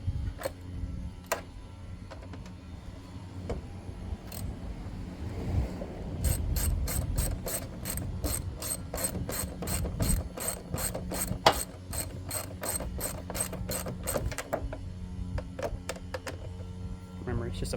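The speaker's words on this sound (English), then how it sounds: "Remember, it's just a screw going into plastic." A ratchet drives a screw into a plastic air box on a Hellcat, its close, crisp rapid clicking running in quick bursts with scattered single ticks, alongside some low handling noise.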